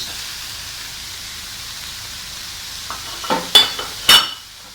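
Chicken added to vegetables frying in a pan, a soft steady sizzle followed by a few sharp clattering stirs and scrapes near the end, close.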